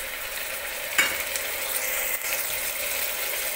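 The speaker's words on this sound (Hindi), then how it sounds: "और इसको भी चलाते हुए थोड़ी देर भूंज लेंगे।" Goat meat fries with garlic-ginger paste in a pan for a milk korma, giving a steady close sizzle with the scrape and clink of a spoon stirring through it, no voices.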